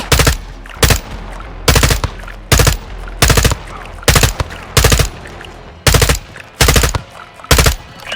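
Automatic gunfire in the first-person shooter Modern Warfare 2, a series of about eleven loud, sharp bursts in an uneven rhythm, each burst a rapid string of close shots over a steady background.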